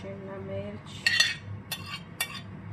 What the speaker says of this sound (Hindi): अब इन सारी चीज़ों को हम एक बाउल में मिक्स कर लेंगे।